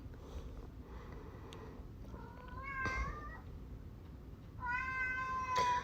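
A cat meows and whines twice, drawn-out tonal cries over a low steady background hum, the second cry longer and louder.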